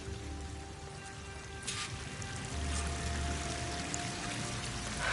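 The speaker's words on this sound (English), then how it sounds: "That waterfall must be coming from somewhere" A waterfall in Horizon Forbidden West gives a steady, broad rushing hiss of falling water, fairly constant with slight swells and no talk.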